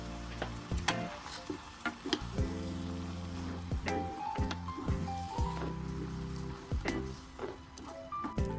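Carrot, onion, mushrooms and chili stir-frying in oil in a single pan, a steady close sizzle broken by repeated sharp clacks of a utensil against the pan, no talk.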